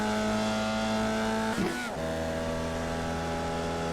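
Race car in a racing video game driving in the wet at Oulton Park, a steady high engine drone with a brief tire scrub and gear change midway before the engine note settles again.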